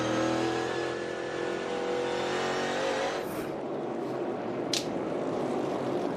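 NASCAR Cup Series race car at North Wilkesboro during the All-Star Race, powering up off turn two with a loud engine roar that sweeps and fades, followed by a couple of sharp bursts.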